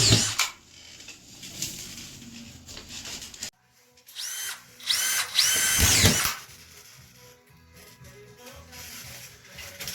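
A power drill drives screws into a ceiling while acoustic ceiling material is stripped, with loud whirring bursts, a short silent gap, then more buzzing and rattling close by.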